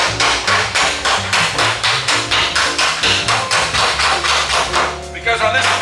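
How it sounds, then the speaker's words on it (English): A hammer pounds sheet metal against a flat dolly while panel work is prepped on a 1955 Buick Century, giving loud, rapid, evenly spaced metallic blows that continue in a steady rhythm close to the listener. "So we're going to take our hammer dolly, and I got two different dollies. See, this one has a flat surface. So when I pound on the inside,"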